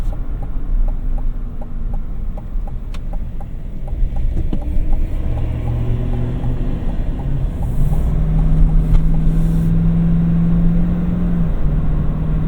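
Steady low engine drone from a 2025 Chevy Silverado LT Trail Boss with its 6.2-liter V8 while driving, a continuous rumble with a rising tone near the end, heard from inside the cab with some wind noise.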